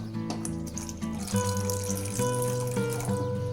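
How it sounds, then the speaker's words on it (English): Water pours into a thick paneer butter masala gravy with a steady splashing gush, heard under a bed of tonal background music. "The next step is to add some water and adjust the consistency"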